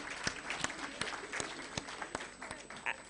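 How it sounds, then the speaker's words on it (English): Scattered clapping from a modest audience at a World Breastfeeding Week event, applauding the Diamond Mothers group; individual claps stand out sharply and unevenly, with faint crowd murmur underneath. "A round of applause for Diamond Mothers"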